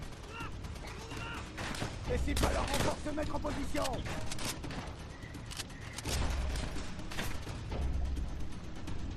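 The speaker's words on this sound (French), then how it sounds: "on peut se faire tirer à travers les palissades en bois, donc c'est pas une très bonne couverture" Gunfire bursts from Call of Duty: World at War, with repeated shots and machine-gun fire crackling through a busy battle mix while someone talks over it.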